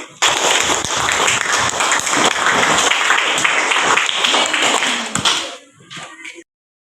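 A classroom of students applauds together, a dense burst of clapping that holds steady for about five seconds before thinning out and stopping abruptly.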